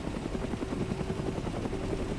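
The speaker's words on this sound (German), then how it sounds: "Die Hubschrauber in der Nähe von Cherno" A DayZ helicopter, a Littlebird, flies close by near Cherno. Its steady, loud rotor thump and engine whine continue without a break, with no voices.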